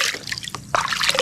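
Water splashes and trickles in quick bursts while a dog named Bagwis is being bathed, close and brief.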